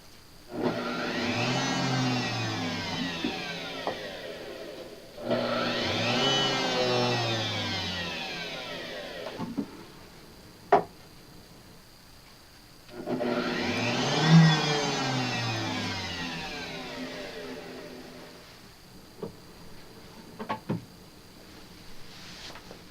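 A repaired Vitamix blender runs in three separate bursts, each rising to a loud, steady motor whir and then stopping, with short pauses and a few clicks between them. No one talks.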